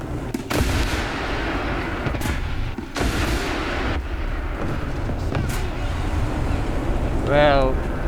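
Anti-tank guided missiles launch from an Object 122MT tank in the War Thunder game, with sharp blasts and booming reports repeating over a constant loud engine rumble, then a rising whine near the end.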